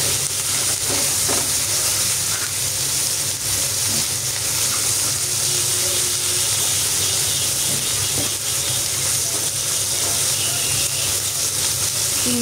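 Shrimp fries in oil with spices, giving a loud, unbroken hiss and sizzle that holds steady the whole time with faint crackles underneath.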